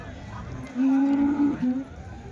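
A cow lets out a single drawn-out moo, close and loud, over a murmur of background noise at a Sunday cattle market in Chintamani.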